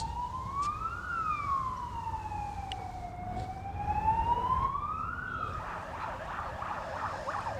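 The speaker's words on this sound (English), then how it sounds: "Ambulance just gone past" An ambulance siren wails past a cricket ground during a T20 match, its tone sweeping slowly up and down before switching to a faster warbling pattern, heard from a moderate distance with no talking.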